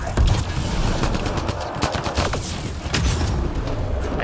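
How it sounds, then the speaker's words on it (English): Grenade blasts and rattling gunfire in the video game Mass Effect Andromeda, a dense continuous barrage of booms and rapid shots with loud, heavy low-end rumble throughout. "Have some grenades, outlaws."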